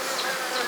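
Honey bees from a hive colony buzz in a steady, dense drone, close and continuous throughout with no voices.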